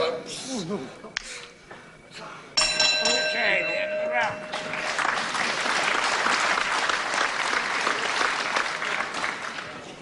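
Crowd applause breaks out at a professional wrestling match, loud and sustained after a stretch of commentary, with bell-like ringing tones layered over the clapping and a voice talking early on.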